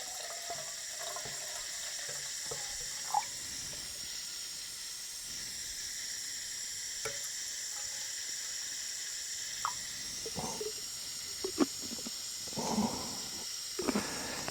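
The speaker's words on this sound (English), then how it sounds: "I'm going to put what is, the normal 500 ml of water" Water poured into a Primus stove pot, about 500 ml, splashing and trickling steadily with brief louder gurgles near the end, close by and alone.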